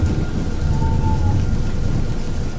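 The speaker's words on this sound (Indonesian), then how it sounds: "karena hujan lebat yang terus mengguyur." Heavy rain pours in a steady, dense roar with deep rumbling thunder underneath, loud and continuous throughout, used as a storm effect in a narrated ghost story.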